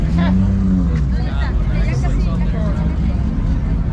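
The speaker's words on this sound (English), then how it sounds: "That Supra sounds crazy." A Toyota Supra's engine rumbles deep and loud at a Cars and Coffee meet in Houston, with a rising tone early on, engine noise holding steady under nearby talk and crowd chatter.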